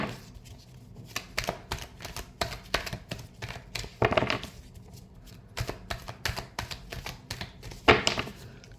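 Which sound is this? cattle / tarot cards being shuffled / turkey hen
tarot cards being shuffled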